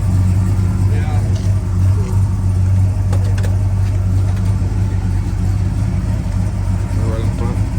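A 1968 Ford Galaxie LTD driving up the road, heard from inside as a steady low engine rumble and road hum throughout, with people talking over it.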